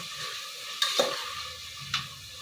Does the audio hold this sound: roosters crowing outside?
no